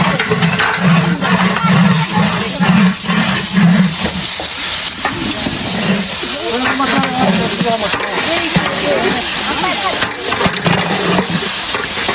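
Onions go into a hot pan and fry with a loud, continuous sizzle and hiss, while people talk intermittently over the cooking noise.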